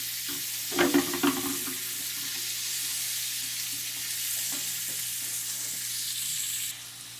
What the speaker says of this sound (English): We're cooking the onions.